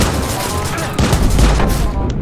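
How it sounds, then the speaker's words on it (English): Loud gunfire from a sniper rifle in the Watch Dogs video game, a dense rolling burst of booming shots that swells after the first second and keeps a heavy, close, continuous barrage with no voices. "I'm gonna snipe them."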